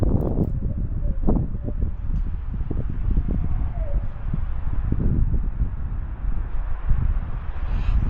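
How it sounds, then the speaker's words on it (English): Gusty wind buffets a microphone outdoors among trees, a loud continuous low rumble with irregular thumps and rustling throughout, no clear voices. "Not just the wind noise"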